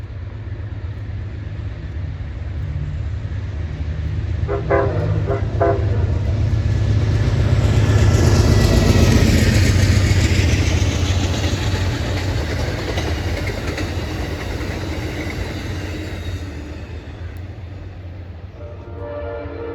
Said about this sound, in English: Next up is Amtrak 43, also known as NS07T. This is the westbound run of the Pennsylvanian